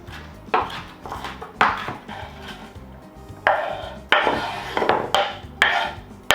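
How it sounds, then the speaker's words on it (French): A kitchen knife chops an ingredient on a board for quesadilla onions: a run of sharp, close knocks in uneven bursts, some quick clusters with brief pauses between, sitting over a low steady background hum. "Là, je découpe pour la rajouter avec les oignons"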